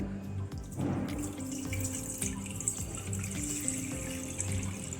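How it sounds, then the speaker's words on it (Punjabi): Sugarcane juice is strained into a metal pot for sugarcane kheer, pouring in a close, continuous trickle and splash with small drips and clinks, with no voices. "ਸਭ ਤੋਂ ਪਹਿਲਾਂ ਆਪਾਂ ਪਤੀਲੇ ਦੇ ਵਿੱਚ ਰੋ ਨੂੰ ਪੋਣ ਲਵਾਂਗੇ"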